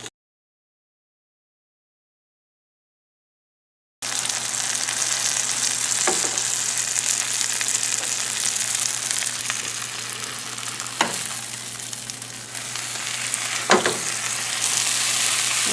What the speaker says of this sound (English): make sure that we get a nice golden brown color underneath and flip it kind of like a grilled cheese